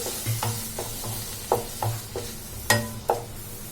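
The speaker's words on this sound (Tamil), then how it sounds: "தண்ணி சேர்த்துட்டு நல்லா மிக்ஸ் பண்ணிக்கலாம்." A spoon scrapes and stirs masala mixed with water in a pan, in several separate strokes with a soft sizzle underneath.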